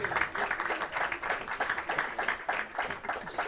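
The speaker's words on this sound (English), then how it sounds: "First, let's give an applause. There is to the team." An audience at a climate justice summer school in Nairobi applauds the team, a steady run of dense clapping at moderate distance.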